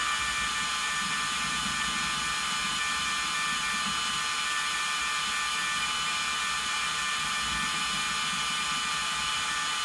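A drill spins a sanitized degassing wand through red raspberry mead (melomel), producing a steady, unbroken mechanical whir and buzz that holds level from start to finish, with no voices.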